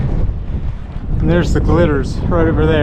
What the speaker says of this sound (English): But wow, is it windy.